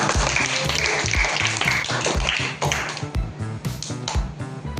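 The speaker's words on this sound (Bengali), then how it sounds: "সঠিক উত্তর, জোরে হাততালি হোক।" Scattered clapping rewards a correct answer at a children's quiz for a Class IV pupil, a dense run of quick hand claps that goes on throughout, loud and close, with a slight lull near the middle.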